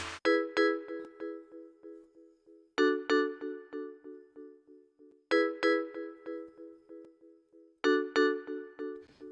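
A bright synthesized bell preset from the Purity plugin in FL Studio rings out alone, repeating a short descending run of struck tones four times in an even, steady rhythm.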